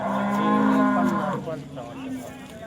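A cow at a cattle market for cows and heifers in Modnimb gives a loud, drawn-out moo lasting over a second, then a softer, lower call trails off amid the market's background noise.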